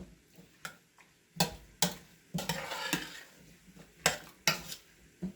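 A spoon stirs a carrot cake jam mixture in a cooking pot, with irregular clinks and knocks against the metal between scraping swirls, close and moderately loud, with no talking.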